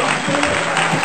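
Audience applause for the Thunder Force team captain at a game-show event, a short dense burst of clapping filling the whole moment at steady loudness.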